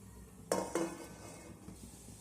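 A metal plate of steamed papad batter is lifted off a steamer, making two quick, ringing metallic clanks close together, followed by faint quiet handling.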